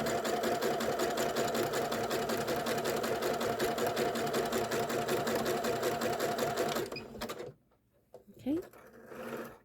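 A sewing machine stitches lace and tulle pieces in a fast, steady, close mechanical whir for several seconds, then stops, leaving a few soft handling clicks and rustles.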